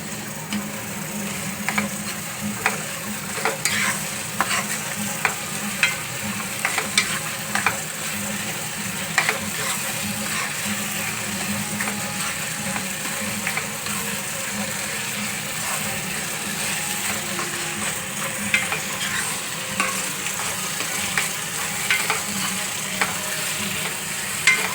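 Red masala for a chicken gravy roasting in a pan over medium gas: a continuous, close sizzle with frequent small scraping clicks from stirring, steady for the whole stretch.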